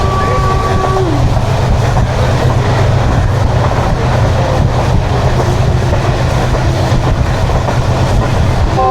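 Khushhal Khan Khatak Express passenger train running toward Attock City Junction, a steady loud rumble of wheels and carriages with rhythmic rail clatter throughout and a brief tonal horn-like note at the start.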